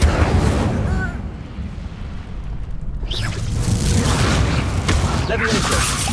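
Fiery spell blast from Incendio in Hogwarts Legacy on PS5, a booming burst rising out of dense low rumble, followed by crackling, whooshing combat effects amid ongoing loud battle noise.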